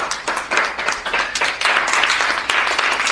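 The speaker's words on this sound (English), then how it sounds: "Give a clap, man." Mixed clapping from a small group gathered at a ceremony honouring a young woman, steady and fairly close for a few seconds, loosening briefly before picking up again.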